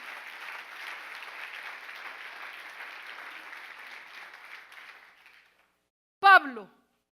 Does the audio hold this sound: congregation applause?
yes